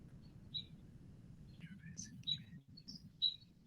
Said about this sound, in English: I hear like a squeak. That might be the bird in the background.